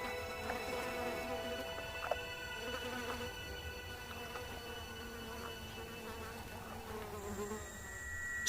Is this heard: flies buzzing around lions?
yes